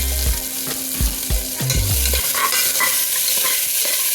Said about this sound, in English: We will add the capsicum now.